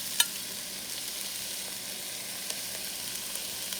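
Steady sizzle of vegetables and red onions being stir-fried for pancit sotanghon, a soft continuous frying hiss with a few faint utensil taps and no talking.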